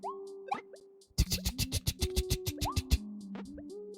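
Kirby making a rapid run of short bubbly plops in Kirby and the Forgotten Land, a quick rhythmic burst of about a dozen watery pops with sliding melodic game tones around it.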